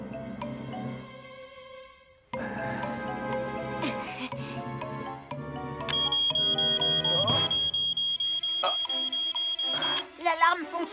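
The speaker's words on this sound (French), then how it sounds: "L'alarme fonctionne très bien" A smoke alarm in a cartoon gives a steady, piercing high-pitched tone that holds for several seconds amid background music and sound effects.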